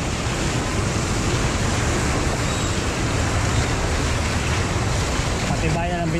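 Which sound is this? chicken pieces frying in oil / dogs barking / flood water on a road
flood water on a road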